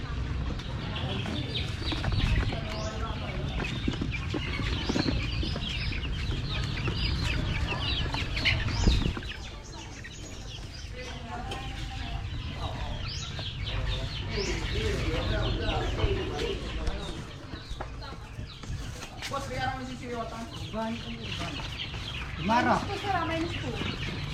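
Live chickens cluck and squawk intermittently nearby while people talk over a constant rumbling background, with occasional wing flaps.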